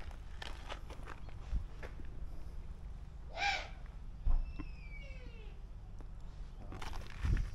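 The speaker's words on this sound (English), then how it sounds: "So this guy is a Eurasian eagle owl. You can hear him talking to me." A Eurasian eagle owl gives a few harsh, raspy calls close by, with faint footsteps and distant chirping in the background.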